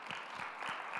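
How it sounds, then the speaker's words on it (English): Audience applause at a 2021 float tank industry conference, a steady wash of clapping from a room full of people, moderately loud and continuous through the moment with no talk over it. "I think you all deserve a round of applause for yourselves"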